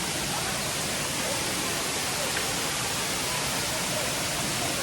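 A waterfall on Koh Samui pours steadily, still running strongly after ten dry days, making a dense, even broadband rush that fills the whole stretch without pause.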